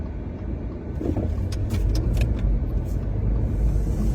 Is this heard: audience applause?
no